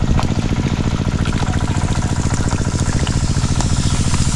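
Farm machine engine running steadily close by on a piggery farm, a loud continuous throb with rapid even pulsing and mechanical clatter, no talk over it.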